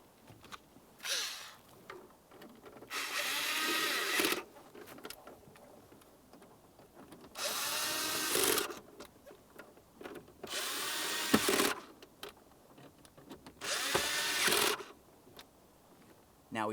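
A power drill drives screws during a transmission shift cable replacement on a 2002-2009 Chevrolet Trailblazer: four separate whirring bursts of a few seconds each, spaced by quiet pauses with faint handling noise.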